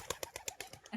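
Pigeon cooing in a household setting: a quick series of soft, rhythmic pulsing calls, faint and somewhat distant, with no voices over it.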